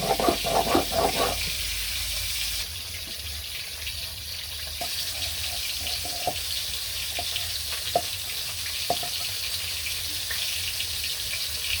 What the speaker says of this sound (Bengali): মাছগুলো সুন্দর করে ভেজে উঠিয়ে নিই